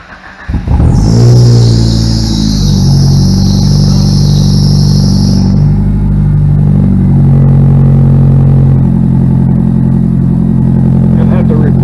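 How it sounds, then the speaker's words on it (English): A 1999 Mitsubishi Eclipse GS-T Spyder turbo engine cold-starts with a brief crank and catch, then settles into a loud, rough, steady idle close to the microphone, with a high belt squeal for the first few seconds. "let's do a cold start for you"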